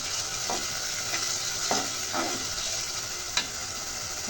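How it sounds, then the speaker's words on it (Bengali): Masala for a chicken gizzard curry fries in a pan with a steady soft sizzle, broken by several quick scraping stirs of a spoon, one sharper clack near the end, and no voices. "মশলাটা ভালোভাবে কষিয়ে নিলাম।"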